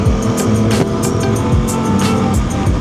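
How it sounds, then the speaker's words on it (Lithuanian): A car drives close behind a moving Aprilia RS660 motorcycle, a loud continuous engine and road roar with rising and falling tones and wind rush throughout. "Dar už manęs mašina važiuoja."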